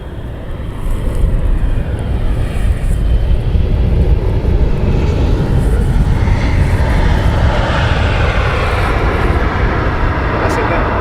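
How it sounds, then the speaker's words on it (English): A Chinese Boeing 747 roars steadily through its takeoff at Amsterdam Schiphol, a loud, broad jet rumble that holds its level throughout, with voices talking over it now and then. "747 just got airborne."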